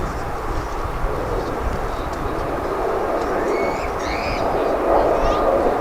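A UPS MD-11 tri-jet freighter, arriving from Louisville, passes over DFW International Airport with a continuous low rumble and whine that swells slightly toward the end, with faint talk and chirps in the background.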